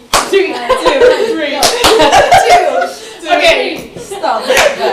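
Sharp hand claps keep a steady counted rhythm, sounding close and loud, while voices talk and chuckle over them throughout.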